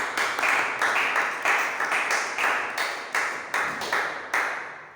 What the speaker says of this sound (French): L'acclamation pour notre Dieu.